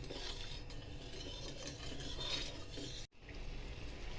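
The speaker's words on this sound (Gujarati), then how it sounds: "ખોળ ઓગળે ત્યાં સુધી હલાવવાનું છે, વધારે ગરમ કરવાનું નથી." Jaggery and water stirred slowly in a pan over a low flame for shakarpara, a steady scraping and rubbing that continues throughout, broken once by a brief gap before resuming.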